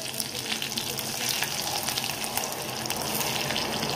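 Garlic hitting hot oil with cumin in a kadai gives a dense, crackling sizzle that stays loud and close for several seconds, with a low rumble underneath and no voices.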